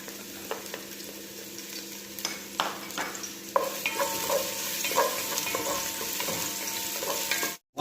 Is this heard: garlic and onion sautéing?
yes